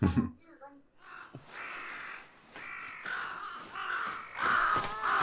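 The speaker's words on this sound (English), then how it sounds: "A crow." A crow caws several times in the Demon Slayer anime, harsh, drawn-out calls rising near the end, heard with a voice talking in the background.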